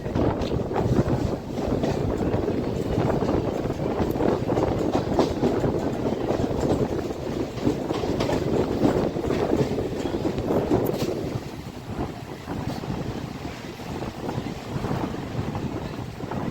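A Sealdah–Kalyani Simanta local train runs on after leaving Palta, heard from inside as a loud, continuous rumble with rushing wind and rhythmic rattling that eases slightly toward the end.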